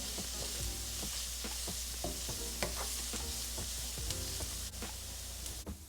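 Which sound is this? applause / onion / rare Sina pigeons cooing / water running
onion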